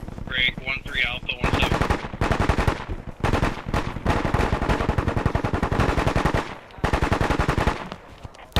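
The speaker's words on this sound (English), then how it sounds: "Gun team 1, gun team 3, switch to watch and shoot." Machine gun teams firing in the military game Bellum, long loud rattling bursts of rapid automatic fire separated by brief pauses, with a short stretch of radio-style talk at the start.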